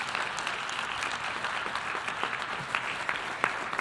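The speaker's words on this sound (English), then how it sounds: "Could I please have a proper round of applause," Applause from an audience at a global observance event for Desertification and Drought Day, continuous and fairly soft, with a few sharper individual claps standing out toward the end.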